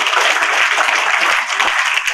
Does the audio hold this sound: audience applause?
yes